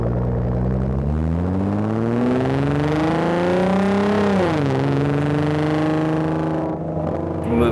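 A 2012 Nissan GT-R's engine revs up in one long, loud, close sweep, its pitch climbing steadily before dropping back and settling into a rumbling idle, with no voices over it.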